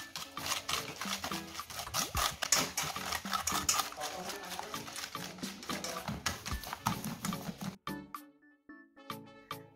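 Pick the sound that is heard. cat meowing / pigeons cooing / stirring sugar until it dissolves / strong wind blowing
stirring sugar until it dissolves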